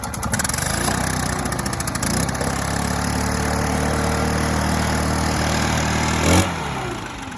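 A freshly started side-pull chainsaw runs at a steady, loud idle, a constant buzzing two-stroke drone that shifts slightly in pitch as it settles, with a brief bump near the end.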